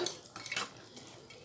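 Spoon scraping and clinking against a pot while stirring long-grain mutton biryani rice, a few quick metallic scrapes near the start then fading to quiet handling.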